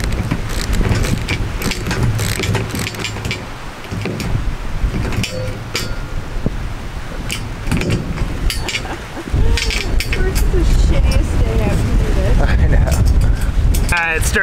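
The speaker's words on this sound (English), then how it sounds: "It started raining, y'all." Steady rain patters outdoors amid clinks and knocks of work mounting a Unistrut roof rack on a school bus, with people talking intermittently over the continuous wet hiss.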